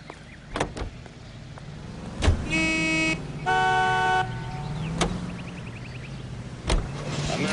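Car driving in the video game L.A. Noire: a low engine rumble runs throughout, with several sharp thuds and brief sustained tonal blasts, similar to a horn or electric window motor, rising over it.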